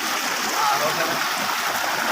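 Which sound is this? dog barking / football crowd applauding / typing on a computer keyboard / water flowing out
water flowing out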